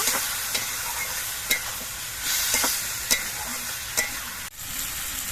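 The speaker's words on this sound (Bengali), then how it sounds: "মশলা দিয়ে সবজিগুলো কিছুক্ষণ কষিয়ে নিয়েছি" Vegetables sauté with spices in a pan for a big puti fish curry, a steady close sizzle broken every second or so by sharp scrapes of a spoon stirring, with no voices.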